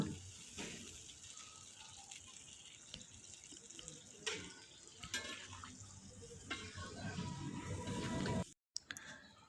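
Water poured into a pot of braised duck meat for boiling, cooked at a family picnic, a faint steady splashing stream with small stirring knocks, close by and without talk.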